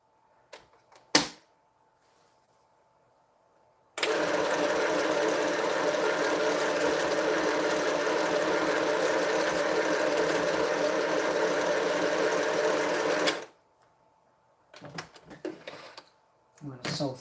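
A sewing machine stitches a quilt top in one long steady run of about nine seconds, loud and close. Quiet handling noises come before it and a little talk follows.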